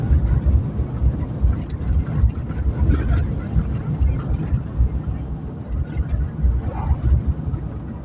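Vehicle approaching along a narrow single-lane rural road, a low engine rumble and road noise that swell and hold steady, with voices faintly present over it.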